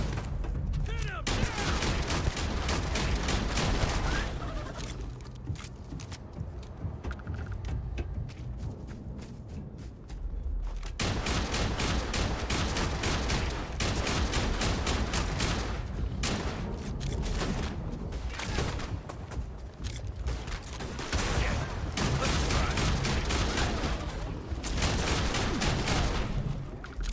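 Gunfire in a sci-fi firefight in the Starfield video game, with dense rapid bursts and volleys of shots running nearly throughout, a brief lull in the middle, and loud mechanical clatter between the shots.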